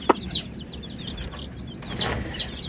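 Chickens searching for their chicks give several scattered clucks and short calls, moderately close over a faint outdoor background.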